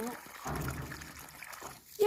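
Water trickles and splashes in a soft, continuous pour, fairly close but low in level, with voices faintly in the background.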